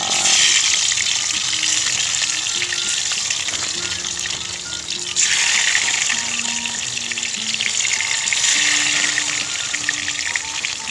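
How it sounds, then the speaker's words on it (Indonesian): Sweet potatoes (ubi cilembu) frying in hot oil outdoors beside a river, a steady loud sizzle running throughout with flowing water mixed in and no talking. "Kita goreng yang ketiga kali."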